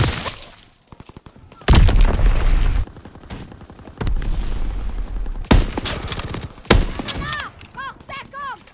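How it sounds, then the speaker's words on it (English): Mortar and gunfire from multiplayer Call of Duty WWII: repeated loud booming blasts and bursts of automatic fire over about nine seconds, with whistling incoming rounds near the end and short stretches of quieter combat between impacts. "Enemy mortar fire incoming"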